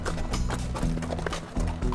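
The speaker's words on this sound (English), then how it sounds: "So we're riding along the Andean Trail" Horses walk up an Andean mountain trail near Cuenca, Ecuador, with a foal following. Their hooves make a busy, uneven clip-clop close by, mixed with rustling and jingling over a steady outdoor rumble, with some voices in the background.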